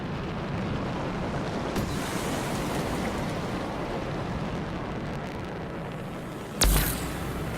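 A steady, broad rush of falling water from a waterfall in the video game Anthem fills the scene at constant loudness, with a brief sharp burst near the end.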